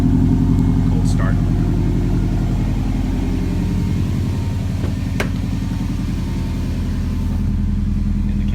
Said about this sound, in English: 2016 Subaru STI. Cold start.